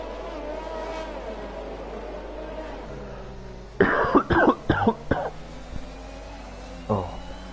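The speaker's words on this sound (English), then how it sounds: "I was having a bit of a cough there." A burst of several harsh coughs in quick succession, close up, then a single softer cough a few seconds later, over a low background hum.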